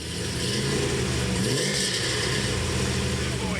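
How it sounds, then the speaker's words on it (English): Rally car fitted with a new LS7 Corvette V8 engine, painted blue and orange, revving with a steady, loud mid-pitched roar throughout, and a voice talking over it. "Just introduced the new LS7 Corvette engine, which is probably the only one in New Zealand."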